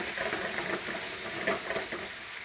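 Squid pieces fry in a hot pan for an Italian seafood salad, giving a steady close sizzle with scattered crackles and soft stirring scrapes, with no voices over it.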